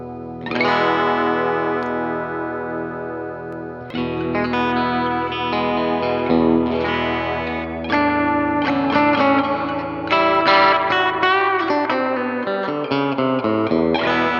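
Electric guitar drenched in reverb, chords and notes ringing out with long washy tails, loud and steady with a few pauses between phrases.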